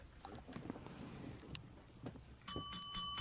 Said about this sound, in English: I'm just felt like ringing a bell.